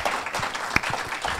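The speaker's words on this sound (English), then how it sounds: "Let's all give him a round of applause" An audience applauds speaker Peter Wood at a Heartland Institute event, a continuous even patter of many hands clapping, with one sharper clap in the middle.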